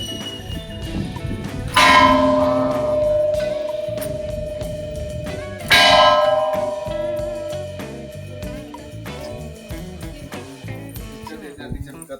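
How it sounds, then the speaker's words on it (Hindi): A temple bell at the main gate of Girodhpuri Dham is struck hard twice, each loud clang ringing on and slowly fading, with voices and outdoor bustle in the background. "घंटी बजा के दिखावत हूँ यहाँ बजा कस के"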